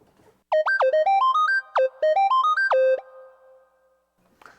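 Roland Fantom 0 synthesizer arpeggiator running bright, bell-like stepped notes in two quick rising runs, each starting from a held low tone, loud and clean, then stopping into near silence.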